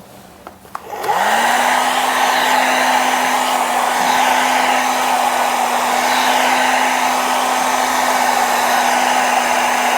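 Hair dryer blowing on alcohol ink artwork, switching on with a click and a rising whir, then a loud steady close-up hum for the rest of the clip; someone speaks briefly just before it starts.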